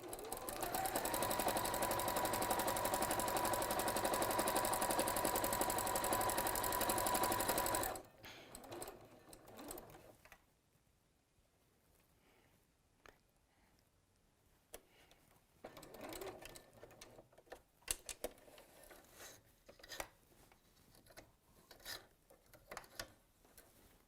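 A sewing machine stitching a quilt at a 3 stitch length whirs loudly and continuously for several seconds, then stops, leaving quiet handling and rustling of fabric.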